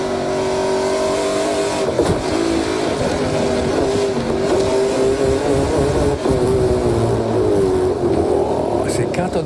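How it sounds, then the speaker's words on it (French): A NASCAR Pinty's stock car on a road course downshifts from third to second gear, its engine note dropping and rising as the revs change, heard under steady commentary. "c'est quand on a rétrogradé de la troisième à la deuxième vitesse que ça s'est passé"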